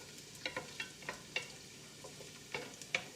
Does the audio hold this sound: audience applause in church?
no